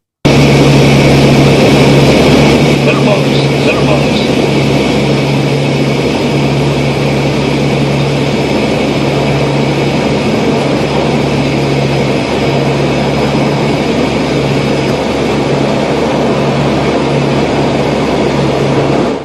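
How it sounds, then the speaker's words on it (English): A Frontier Airlines plane flying low on its approach to a runway near a road, a loud steady engine roar that holds constant throughout, no talk. "you can see how low this plane goes"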